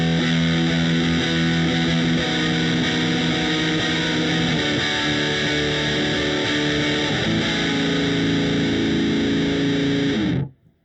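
Electric guitar played through swell and fifths effect pedals in a shoegaze stereo rig, producing a loud, sustained, dense wash of distorted tone that holds steadily for about ten seconds before cutting off abruptly.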